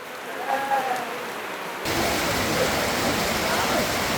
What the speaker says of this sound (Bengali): দেখেন বৃষ্টি নামছে